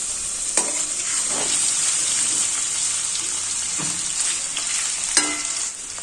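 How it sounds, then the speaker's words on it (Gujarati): Paneer sizzles steadily in hot ghee in a pan, with the frying hiss running throughout. A few soft scrapes and clacks from a spatula turning the pieces are heard. "હળવા હાથે તેને આપણે ફેરવતા જવાનું અને પ્રોપર રીતના ઘીમાં સાતળી લેશું."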